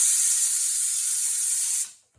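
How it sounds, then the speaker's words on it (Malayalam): A pressure cooker releases steam through its whistle while cooking sardines: a loud, close, continuous hiss that holds steady and then quickly dies away into silence. "ഒരൊറ്റ വിസിൽ വന്നാൽ മതി കേട്ടോ"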